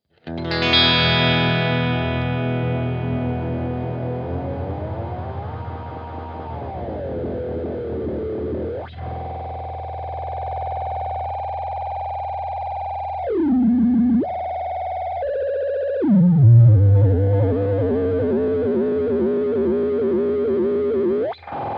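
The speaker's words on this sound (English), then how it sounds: "you can also manipulate the delay time and modulation speed by means of the joystick" An electric guitar through a Hungry Robot Kármán Line pedal with heavy delay and modulation effects, pitch swooping and warbling with echoing repeats, sustained and loud throughout without any voice.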